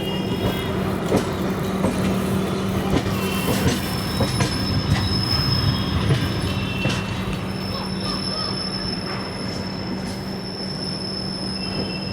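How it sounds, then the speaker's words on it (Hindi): The Vidarbha Express, train 12106, arrives at Nagpur Junction with loud, steady wheel squeal and rolling rail noise heard close, occasional clicks over the joints, easing slightly toward the end. "तो 5 बजे हमारी ट्रेन को रिसीव किया जा रहा है नागपुर जंक्शन पे"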